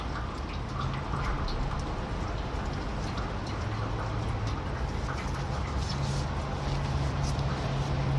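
Diesel fuel drips and drains steadily into a catch container, making a dense, continuous patter like light rain that stays even throughout with no voices.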